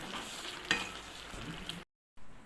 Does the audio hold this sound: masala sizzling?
yes